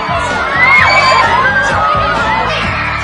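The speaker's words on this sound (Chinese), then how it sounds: "一现身就引嚟 fans 尖叫" Fans scream and cheer as a band arrives by open-top car at a signing event in Hong Kong. A dense, close crowd of high-pitched shrieks and whoops stays loud and continuous throughout.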